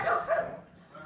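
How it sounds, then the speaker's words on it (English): Pugs giving a quick pair of short, slightly whiny barks up close, fading into a soft whimper within about a second, with no talking. "What are you guys barking at?"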